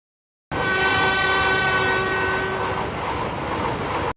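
An anime train horn sounds a long, loud, steady tone over a rumbling rail ride, then cuts off abruptly after about three and a half seconds. There is no talk.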